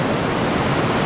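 An underground river flows through a cave in Guizhou, giving a steady, dense rush of water that never lets up, with no voices over it.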